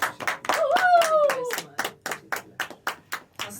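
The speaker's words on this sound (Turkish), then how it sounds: "kocaman bir alkış" A few people in a podcast studio clap their hands for a guest, the sharp rhythmic claps quick at first and then slowing into separate, evenly spaced hits, with a voice briefly heard over the early clapping.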